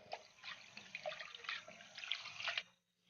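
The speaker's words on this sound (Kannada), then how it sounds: "ನೀರು ಹಾಕಿ ಚೆನ್ನಾಗಿ 2 ಸಲ ತೊಳ್ಕೊಂಬಿಡೋಣ." Toor dal being rinsed in water for radish sambar: continuous faint splashing and swishing of water with small drips, close by, with no talking.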